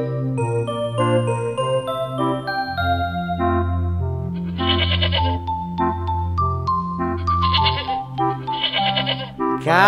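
Goat bleats sound over a bright, jingling musical backing on a farm, with several bursts of bleating in the second half.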